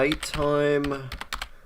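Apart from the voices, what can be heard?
typing on a computer keyboard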